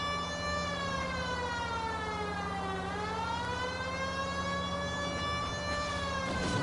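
A police car siren in the video game L.A. Noire wails loud and continuous, its pitch sweeping down and back up in a long, slow cycle over a low engine hum.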